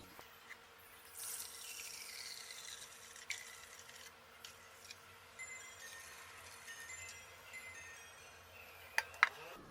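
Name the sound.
pouring off water from soaked ground wheat into a vessel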